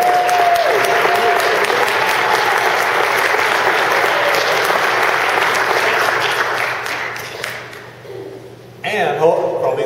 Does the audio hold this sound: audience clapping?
yes